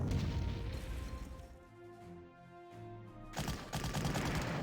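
Gunfire and booming artillery-style shots in the World War II strategy game Panzer Corps, as units attack enemy artillery; dense bursts of firing open and close the passage, with a quieter tonal stretch between and no talk.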